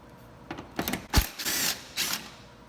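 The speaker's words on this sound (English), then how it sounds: "take a 10mm socket, and we're going to remove this bolt on the top here, and also this one on the side" A 10mm socket wrench ratchets in short, quiet bursts while loosening a headlight bolt on a 2017-2018 Honda CR-V, with a sharp clunk partway through and brief mechanical clicking close by.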